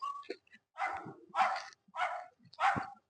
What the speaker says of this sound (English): the neighbor's dog